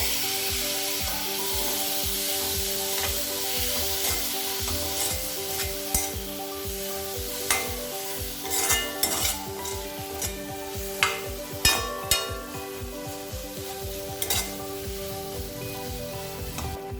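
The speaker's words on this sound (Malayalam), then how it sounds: "തക്കാളി ചേർത്തതിന് ശേഷം നന്നായിട്ടൊന്ന് ഇളക്കി കൊടുക്കുക" Two medium tomatoes frying with onions in a pan for a Kerala-style egg curry, stirred with a steady scraping swish over a continuous sizzle, with a few sharper utensil knocks toward the end.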